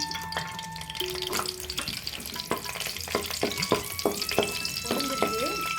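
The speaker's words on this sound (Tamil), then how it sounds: "முந்திரி பருப்பு இது மாதிரி குட்டி குட்டியாக உடச்சி வச்சுருக்கோம் அதை வந்து பொறிச்சு எடுத்துக்குவோம்" Broken cashew nuts sizzling as they fry in ghee in a pan, a steady crackle with occasional stirring clinks and scrapes close by, for laddu made with red poha.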